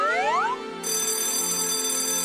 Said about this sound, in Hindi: घंटी बज गई, मुझे जाना होगा।